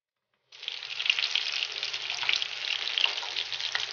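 Battered peppers fry in hot oil with a steady, close crackling sizzle that starts abruptly after a moment of silence and continues without talking.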